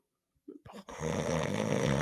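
A loud, rasping snore follows a few soft breaths and builds into a sustained, rough, rattling snort that fills the rest of the moment up close.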